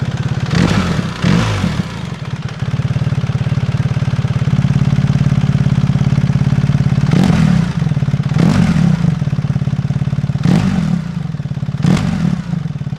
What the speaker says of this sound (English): So I'm going to start it again with the valve closed using the ES Eliminator